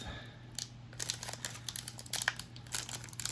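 Crinkly Mylar foil card pack packaging rustles and crackles in irregular bursts as it is pulled open, close and fairly quiet, with no talking.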